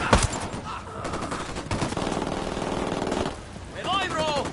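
Automatic gunfire in the video game Ghost Recon Wildlands: sustained rapid bursts of machine-gun fire fill most of the stretch, loud and close, with bright whistling tones at the end.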